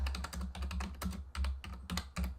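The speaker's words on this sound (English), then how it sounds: "what can we type in here?" Quick clicking keystrokes on a computer keyboard, typed in irregular bursts with brief pauses, close and fairly quiet with no talking.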